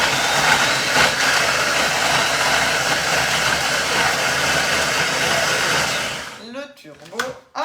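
A food processor whirs loudly and steadily at speed 8, blending zucchini and olive pesto for about six seconds, then stops. Brief knocks and handling sounds follow.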